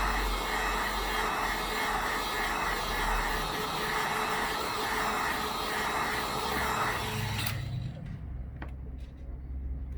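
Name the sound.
hot air heating iPhone 11 motherboard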